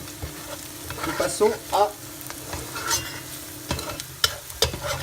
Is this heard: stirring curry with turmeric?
yes